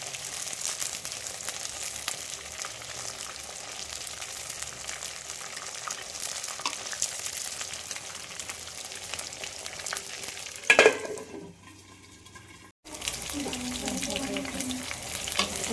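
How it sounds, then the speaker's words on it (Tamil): Brinjal sautéing in a pan for fenugreek kuzhambu, a steady close frying sizzle with stirring scrapes, a brief louder clatter near the end, then a short quiet gap before the sizzle resumes. "இதெல்லாம் எப்படி எந்த கலரில் வதங்கிருக்கு பாருங்க."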